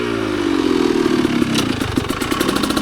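A dirt bike on rugged single-track trail near Snow Springs, Pagosa Springs, Colorado, runs close and loud, its engine chugging and revving unevenly as it climbs, with clattering from the rough ground underneath.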